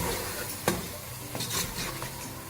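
Spiced masala for kadhi pakora is mixed in a pan over a soft sizzle, with a sharp utensil knock near the start and a few scraping strokes later, close and fairly quiet.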